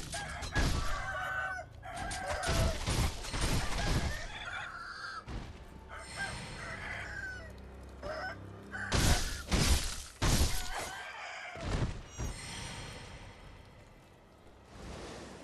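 Aggressive chickens in the video game Sekiro: Shadows Die Twice cluck and squawk loudly and close by, in a rapid, irregular run of bursts with sharp clattering hits in between, and no talking.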